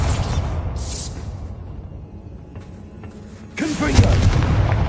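A Bombarda spell detonates in a Harry Potter video game, a loud booming blast that lands near the end after a rumbling, whooshing buildup.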